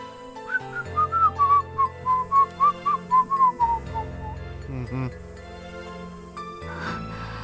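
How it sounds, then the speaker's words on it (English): A character in the visual novel game Fate/Hollow Ataraxia whistles a cheerful, bouncy tune of short repeated notes, clear and prominent over soft sustained background music before fading into the game's score. "My servant begins whistling in an entirely exaggerated display of high spirits."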